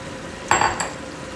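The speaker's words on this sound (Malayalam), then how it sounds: "നമ്മൾ ഫ്രൈ ചെയ്ത് വെച്ചിരുന്ന കൊഞ്ച് നമുക്കതിനകത്തേക്ക് ഇടാം" Fried prawns drop into a pan of hot gravy for a Kerala-style prawn roast, giving a short sizzling splash with a metallic clink, followed by a second small burst.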